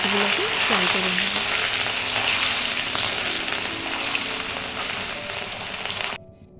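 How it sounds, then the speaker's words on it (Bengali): Katla fish pieces rubbed with turmeric and salt fry in hot oil with a loud, continuous sizzle, and a few brief tones rise near the start before the sound cuts out abruptly just before the end. "মাছগুলোকে ফ্রাই করে নেব।"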